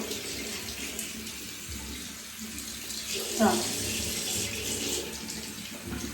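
Water runs steadily from a household tap in an apartment, a continuous broadband rush with a brief splash partway through, while someone briefly speaks.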